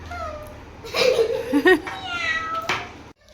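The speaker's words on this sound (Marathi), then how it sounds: "मांजर कसा आरडत आहे" A cat yowls loudly several times, drawn-out wavering cries close by, with some background voices.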